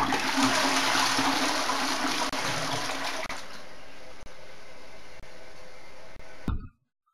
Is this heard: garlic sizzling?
no